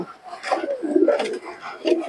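Pigeons coo in a loft during a high-flying Giribaz pigeon tournament, soft throaty rolling calls repeating close by with some faint background voices.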